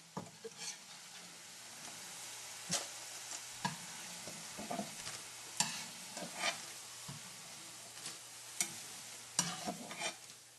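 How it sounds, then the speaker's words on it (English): Food fries in hot grease for chilaquiles, a quiet steady sizzle broken by repeated scraping stirs and clinks of a utensil against the pan, with no talking. "We're cooking with some hot grease now."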